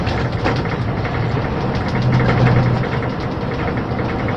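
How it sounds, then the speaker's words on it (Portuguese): A Scania 440 automatic truck hauling sugarcane holds a steady, loud, rumbling engine-brake drone while descending, a continuous low throbbing with no voices over it. "O caminhão tá descendo com freio motor"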